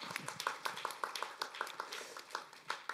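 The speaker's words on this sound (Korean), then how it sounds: "박수 한번 주십시오" Sparse applause from a small audience at a cultural city forum in Iksan, heard as scattered, fairly quiet individual claps in an uneven rhythm with no voices over them.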